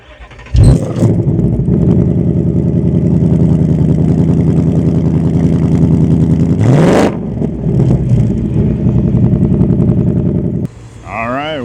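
A 2024 Ford Mustang GT V8 fires up with a sharp bark, then settles into a loud, steady rumble as it drives off, with a rising surge of acceleration near the middle before it eases back to a cruising drone; a few faint voice sounds appear near the end.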